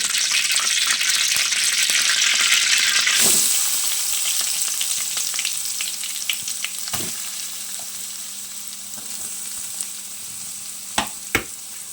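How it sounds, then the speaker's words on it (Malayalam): Grated coconut from a large coconut fries in oil in a wok for a Kerala kootu curry, a loud dense sizzle at first that settles into a softer steady crackle with a few sharp spoon scrapes near the end. "ഒരു ബ്രൗൺ കളർ ആകുന്നവരെ വറുത്തെടുക്കാം"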